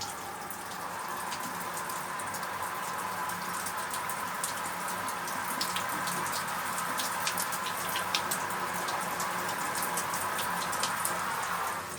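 Steady rain patters and hisses on a surface, with scattered nearby drops landing throughout; no voices, a continuous wet wash of sound.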